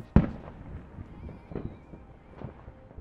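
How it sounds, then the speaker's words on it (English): Fireworks crackle and pop at a distance. One sharp bang opens a scattered run of smaller snaps under a faint whistle. "fireworks can be a great resource for creating sound effects or ambient sound design"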